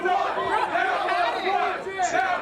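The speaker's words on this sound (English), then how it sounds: "And you can hear the crowd." A wrestling event crowd rumbles with dense, steady chatter throughout, and a voice talks over it close up.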